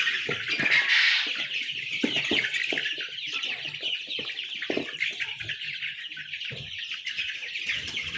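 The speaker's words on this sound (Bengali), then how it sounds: "এখানে ৩০০ মুরগি আছে।" Desi Sonali hens on a poultry farm of about 300 birds make a dense, continuous chorus of nearby clucks and chirps, steady and fairly loud, with no talk.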